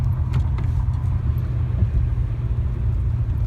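A 1984 Chevrolet Monte Carlo SS engine idles with a steady low rumble, continuous and fairly close, with no voices over it.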